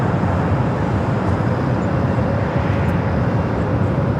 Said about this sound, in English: got that Singapore 777 heading to Sydney, Australia. Now starting his roll down to 25 at right.